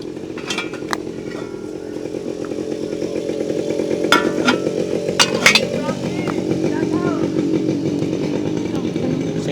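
Motorcycles on a roadside, engines droning steadily with a rising pass near the middle, loud and close, under people talking and a few sharp clicks.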